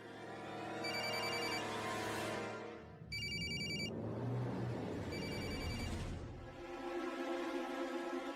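A telephone bell rings in repeated bursts, loud and close, with short gaps between rings and a steady hum of room noise underneath.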